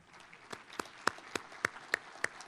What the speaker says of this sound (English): a big round of applause for Ms. Shaw